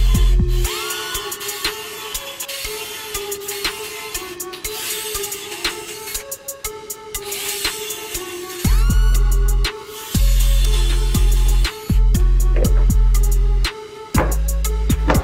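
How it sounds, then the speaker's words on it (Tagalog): A power drill with a countersink bit pre-drills holes in plywood for a simple shoe rack, giving loud, high whining runs that start and stop in repeated bursts, with no talking. "kailangan muna natin mag-pre-drill ng butas sa plywood gamit ang countersink drill bit"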